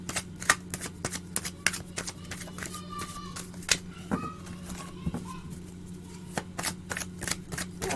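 Tarot cards are shuffled repeatedly in quick, crisp riffles and taps, close up, over a low steady hum with faint background voices.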